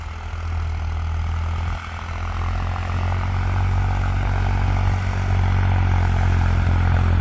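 A New Holland tractor engine works hard pulling a pressure harrow through damp field soil, a loud continuous low drone with steady mechanical rumble and no talk.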